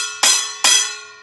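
A metal kitchen colander is struck twice, each hit giving a bright, ringing metallic clang with a sustained shimmering decay, the second strike about 0.4 seconds after the first, close and clear.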